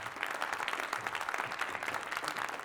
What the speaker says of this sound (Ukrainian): Від ваші бурхливі оплески.